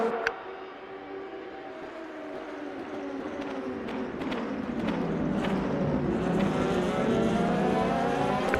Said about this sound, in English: Heading down the next straight now. Catching a slipstream with Andre in the background